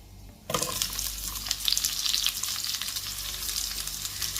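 Long-sliced onion dropped into hot oil with clove and cumin, erupting into a loud, steady sizzle and crackle after a brief quiet start, with light stirring, no voices.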